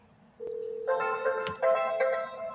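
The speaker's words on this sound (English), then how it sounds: "I'm calling her right now, King Miller." A phone places a call with a single steady dial tone, then a brighter ringing or keypad tone pattern that warbles and repeats, heard close over faint room noise.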